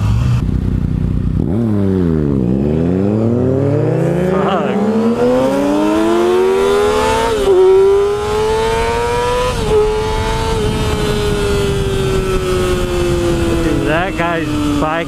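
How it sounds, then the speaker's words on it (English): A Yamaha FZ-09 sport motorcycle is heard up close, at first revving low and then accelerating hard with rising engine pitch. It shifts up through the gears in a loud, sustained howl, and a voice can be heard shouting under the roar. "Bike is fucking fast."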